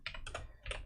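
Typing on a computer keyboard during game coding in Godot: a quick cluster of key clicks in two bursts with a short pause between, close and fairly quiet.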